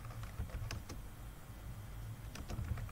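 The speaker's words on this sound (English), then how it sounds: "I'm going to be typing" Quick, light keystrokes on a computer keyboard arrive in short irregular bursts, close and clear over a low steady hum, with a pause in the middle before another flurry of taps.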